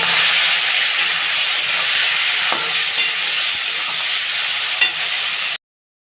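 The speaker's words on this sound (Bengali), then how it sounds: "সেই তেলের মধ্যে আমি চিংড়িটা ভেজে নেব" Prawns fry in leftover oil from cooking fish: a loud, close, continuous sizzle and hiss with faint stirring clicks, running steadily before cutting off abruptly near the end.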